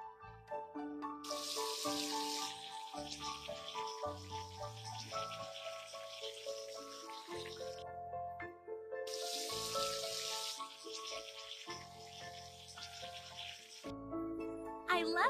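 Tap water running in a video game to rinse a face during a spa makeover, a steady synthetic gush in two long bursts over cheerful game music.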